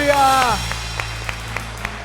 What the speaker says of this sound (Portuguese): Aplauda o nome do nosso Senhor Jesus